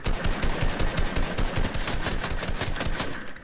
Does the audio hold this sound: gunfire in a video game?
yes